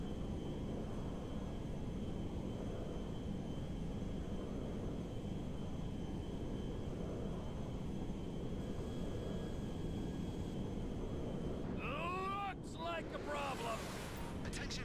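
A jet aircraft in GTA V roars steadily for a long stretch as a broad, windy whoosh at constant loudness, with a brief burst of radio chatter and warbling tones near the end.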